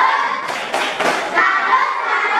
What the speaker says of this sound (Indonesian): Kita beri tepuk salut ya untuk kelompok cerah ceria